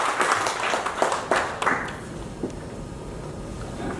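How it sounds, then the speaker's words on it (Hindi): An audience at a program launch event in Rajasthan claps in a modest burst of applause for about two seconds, then fades into quiet room ambience. "जोरदार तालियों के साथ में स्वागत और अभिनंदन"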